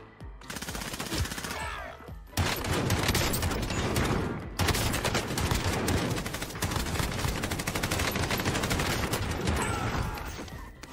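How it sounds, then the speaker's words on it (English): SMG gunfire in the video game Warzone, dense rapid bursts of automatic fire, loud and close, with brief pauses between strings of shots. "Now just take a look, another kill, guys, with the new SMG."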